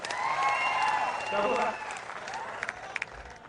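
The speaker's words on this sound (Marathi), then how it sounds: "नितेश राणेचं टाळ्या वाजून जरा अभिनंदन करा" Crowd applause at a political speech congratulating Nitesh Rane, steady massed clapping from a large audience, strongest in the first half and then thinning, with a few sharper claps near the end.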